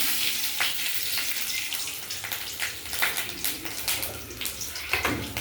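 Nigella seeds and a green chili crackle in hot mustard oil in a village kitchen, a close, continuous sizzle broken by sharp spitting pops.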